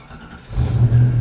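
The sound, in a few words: Ford Mustang V8 engine running with an exhaust leak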